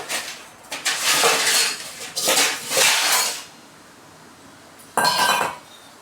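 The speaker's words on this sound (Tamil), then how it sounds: "கேஸ் ஸ்டவ் ஆன் பண்ணியாச்சு, ஒரு பாத்திரம் வச்சிட்டோம்." Metallic clanks and scraping clatter of a metal pot being set down and shifted on a gas stove, two bursts of noise, then a brief pause and a final sharp clink.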